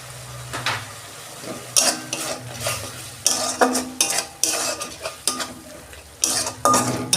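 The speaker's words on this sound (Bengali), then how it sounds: "ভালো করে আমি কষে নেব।" Spices with salt, chilli paste, coriander, cumin and turmeric being stirred and fried in a pan, a busy run of loud metal scrapes and clatters over a frying sizzle, coming in bursts.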